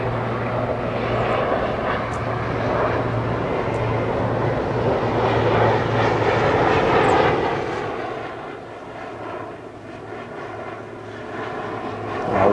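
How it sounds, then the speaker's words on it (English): A helicopter passes overhead at Congressional Cemetery in Washington, D.C., giving a loud, steady engine drone that builds and then eases away, with no one talking. "I'm going to just let this helicopter go by."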